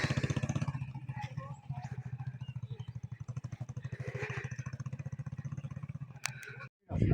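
Motorcycle engine running close by during a riverside hike, a rapid, steady putter of pulsing exhaust beats that holds nearly constant before cutting out briefly near the end, with a voice speaking over it.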